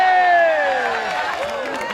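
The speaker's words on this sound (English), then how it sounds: "The Israelites are cheering." A crowd of Israelites cheers in a David and Goliath reenactment, loud and close with high voices rising and falling, over a brief sustained burst.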